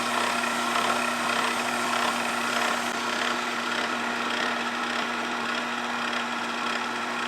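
A mini-lathe cuts steel with a carbide insert, giving a steady, even grinding hiss over a constant motor hum, loud and close for the whole stretch with no talking.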